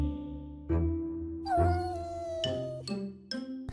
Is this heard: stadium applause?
no